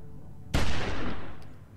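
A single loud, close gunshot in The Walking Dead video game cracks out sharply after a quiet lead-in, then rolls away in a long fading echo.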